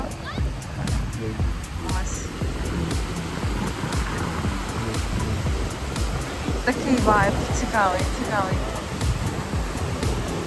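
Sea waves wash onto a beach near a port in Alicante, Spain, a constant rushing surf close by, with people talking over it.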